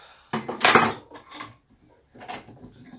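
Metal clamps being removed while fitting bearings into a motorcycle linkage, giving a few close, clattering metallic clanks and knocks in short bursts with a pause between them.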